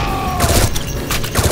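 A grenade going off in the shooter game SAS Secure Tomorrow, a loud, booming burst with crackling debris, followed by a second rumbling blast near the end.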